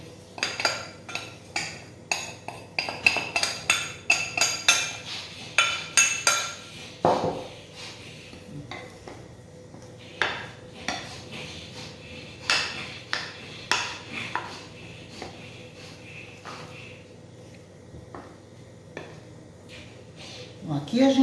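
A spoon clinks and taps against a bowl while flour goes in for Gaúcho biscuit dough, giving a busy run of sharp metallic clicks and scrapes with quieter stretches between them.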